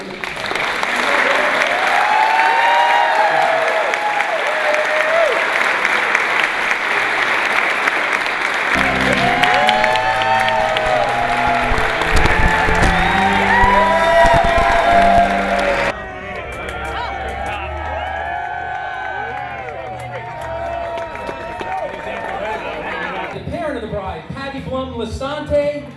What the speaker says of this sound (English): Let's have a nice round of applause for Andrea Grinchy, escorted by Frankie Lasa